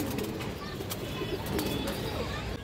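Bagha pigeons coo in a busy loft, a steady murmur of low coos with occasional chirps and wing sounds, moderately close and continuous.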